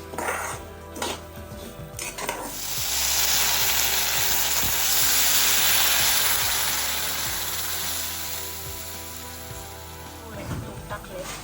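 Broken wheat (lapsi) roasting in ghee in a kadai, a soft steady sizzle that swells in the middle with occasional light stirring scrapes, under intermittent talk.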